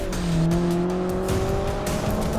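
Modified Chevrolet Camaro EcoCAR 3 accelerating hard during a 0 to 60 test, engine pitch climbing steadily as the tires squeal continuously, loud and close, with no talk.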